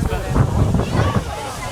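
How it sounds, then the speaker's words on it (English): Gusty wind buffets the microphone while water from the Merlion fountain sloshes and splashes into its pond close by at Marina Bay, Singapore, a rough continuous rush. "the water is splashing, and it's very windy today"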